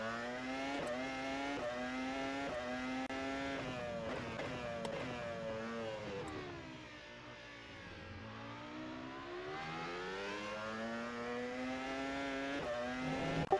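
A Formula Pro race car engine in the rFactor 2 sim, driven at Bahrain, revs up and down repeatedly in whining sweeps. It dips lower about midway, then climbs back. The sound stays fairly quiet, with no voices.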